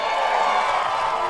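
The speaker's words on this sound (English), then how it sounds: "I think that's a mixed cheer from the fans of the ruling by Pittsburgh" A softball stadium crowd at an NCAA championship game between Texas and Eastern Illinois lets out a steady, mixed roar of cheering and shouts after an upheld safe call, broad and distant-sounding with no voice over it.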